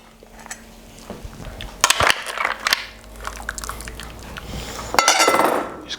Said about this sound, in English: with my slotted spoon, I'm just going to